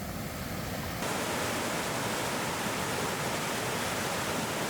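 A waterfall pours into a creek with a steady, broad roar that grows noticeably louder and fuller after the first second, with no voices.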